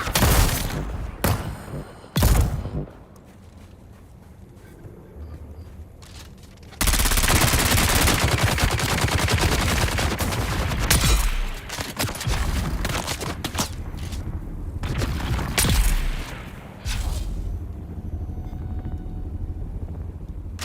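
Gunfire in Dune: Awakening: scattered single shots early on, then long sustained bursts of rapid automatic fire with roaring background noise, loud and close, fading into sparser shots near the end.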